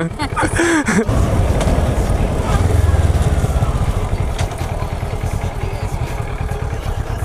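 Motorcycle engine on a learner's riding course, a loud, steady rumble with clattering mechanical noise that shifts pitch as gears drop, with a voice briefly heard at the start.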